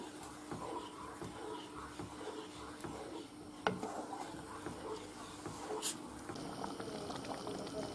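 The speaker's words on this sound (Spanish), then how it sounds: "Ya está hirviendo" Mushroom cream soup with milk bubbles and simmers in a pot, a steady soft burble with scattered pops and a faint clink of utensils.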